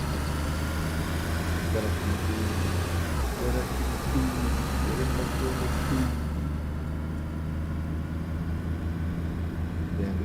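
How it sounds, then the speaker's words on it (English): A car engine in the video game DayZ runs loudly and steadily throughout with a low drone, shifting in tone partway through, while people talk over it. "damn, the car's loud"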